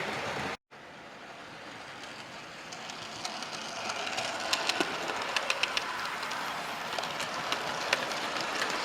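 A model train running on a loft model railway, a faint steady rolling hum with light clicking of wheels on rail joints getting closer and louder, and no talk.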